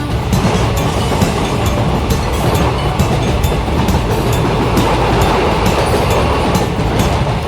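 A train rumbles steadily with continuous rolling wheel noise and faint rhythmic clatter, loud and close throughout with no voices.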